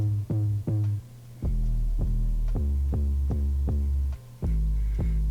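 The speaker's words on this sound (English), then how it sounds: "So the 808 sounds like this." Deep 808 bass notes in a beat pulse in a bouncy pattern, each boomy hit sliding and ringing with strong low-end weight, loud and alone with no voice.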